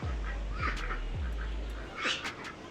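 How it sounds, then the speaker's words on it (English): A duck follows people outdoors in Arizona and gives a few short quacks, mid-distance and fairly faint, over steady low rumbling background noise. "we got this duck following us"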